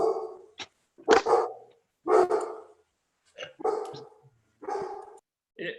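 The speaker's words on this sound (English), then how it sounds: "Whose dog is that?" A dog barks repeatedly in short bursts during a town council meeting, several loud barks spaced about a second apart with brief silences between them.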